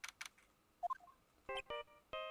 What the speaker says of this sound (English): Mr. Nick, your phone! Yeah, like the sound of his ringtone right now.